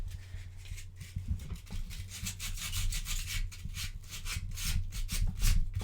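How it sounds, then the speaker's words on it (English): Flexible plastic-backed sandpaper rubs back and forth over a body part in quick, steady scratchy strokes, close and moderately quiet with no talking. "This is really flexible sandpaper, by the way. It's on a plastic backing instead of a paper."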